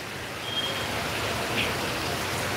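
Rain easing off over a road in Sylhet, a soft, steady wash of falling drops that stays even and fairly faint, with no talking.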